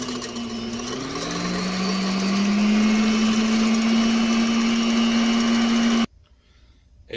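Electric mixer whipping egg whites on high speed, a steady loud motor whine that rises in pitch as it spins up, holds for several seconds, then stops abruptly.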